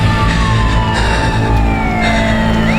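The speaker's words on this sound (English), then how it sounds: "Hearing the approaching sirens, they quickly fled in different directions." Approaching emergency vehicle sirens, loud continuous wailing tones sliding in pitch over a dense, rumbling background of traffic or engine noise, with no talking.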